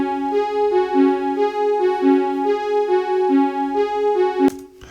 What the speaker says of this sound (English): Then I added also some string sounds, which are actually from the Casio tone bank.